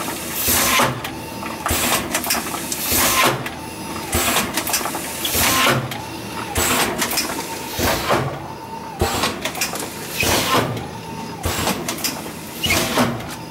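An empty bagging machine running on three-phase power cycles with repeated rhythmic mechanical clacks and whooshes about every second or two, a steady industrial hum between strokes, heard up close.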